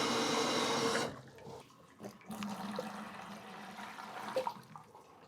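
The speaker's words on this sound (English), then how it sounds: "Now I'm gonna add a little water." Water poured into a bucket of mortar mix: a loud rushing pour for about a second, followed by quieter sloshing and small knocks.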